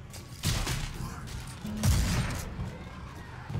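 Shotgun blasts in Left 4 Dead 2 during a zombie fight, two heavy booming shots about a second and a half apart, each trailing into a rumbling tail.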